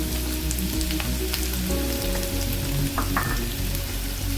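Chopped onion drops into two tablespoons of hot oil and frying starts, a dense crackling sizzle over a low steady hum, with a few sharper pops near the end.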